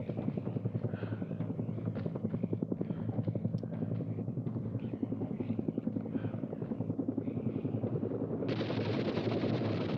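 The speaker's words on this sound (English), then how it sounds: "Oh, here's the helicopter." Helicopter rotor drones steadily overhead in a zombie horror game while rapid gunfire crackles densely throughout, loud and close, with a brighter rush near the end.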